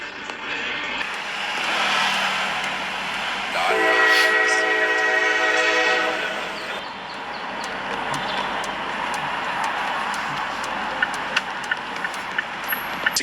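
A train horn blares for a few seconds as a train passes at a rail crossing in Mesa, where a garbage truck is in a crash. The horn rises out of steady rumbling rail noise and is followed by scattered clicks and clatter.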